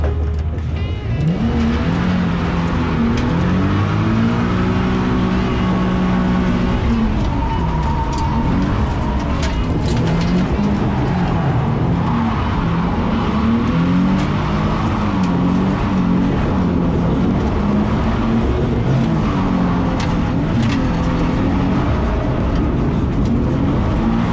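A Nissan Safari 370Z rally car driving on tarmac pushes through a turn, its engine a loud, continuous close-up roar with revs rising and falling throughout.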